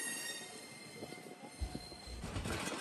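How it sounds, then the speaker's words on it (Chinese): A train pulls away from a road crossing, its steady rumble and faint wheel squeal carrying at moderate distance, with low heavy thumps swelling near the end as the cars roll on. "火车开走了，路障解除了"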